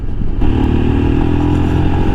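Royal Enfield Himalayan single-cylinder engine pulling up through the revs while riding, a loud, close, steady thumping drone with wind rush.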